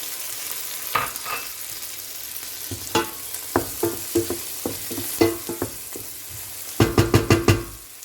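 Tomatoes and mushrooms sauté in a pan, with soft sizzling under a series of sharp scraping stirs and clacks that come in bursts, loudest in a quick cluster near the end.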